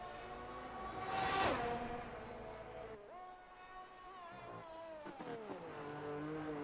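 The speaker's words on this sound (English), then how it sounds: "As Vapor comes through the S section now" A race car laps the Circuit of the Americas in a racing video game during qualifying, its engine note rising and falling through the S-curves with sustained revving and shifting, heard loud and close with no talk.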